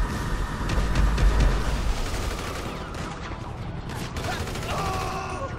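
Dense, continuous automatic gunfire from a Grand Theft Auto 5 police shootout, loud and sustained with a crackling roar that eases slightly toward the end, mixed with game effects and no talk.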